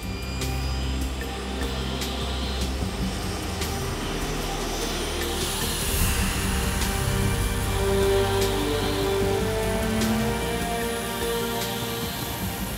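A French Navy fighter jet roars on a runway as a dense, loud, continuous engine rumble with a broad whine on top. The noise holds steady across the whole stretch.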